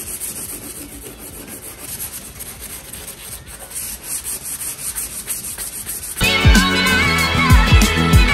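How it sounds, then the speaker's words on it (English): Close, steady scratching of 120-grit sandpaper rubbed by hand over a car part being skinned in carbon fiber, continuous and moderately loud, before a sudden louder clattering burst of other noise takes over near the end. "We're gonna take 120 grit by hand and scratch the whole thing down."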